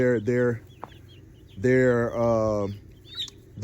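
Free-range backyard chickens cluck and give drawn-out calls close by, several bursts of clucking separated by brief pauses, with no talking.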